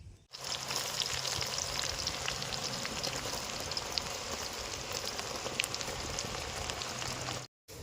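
Chopped onion frying in oil for a fish roe masala curry gravy, a steady dense sizzle that holds loud and even throughout with no talking, cutting out briefly near the end.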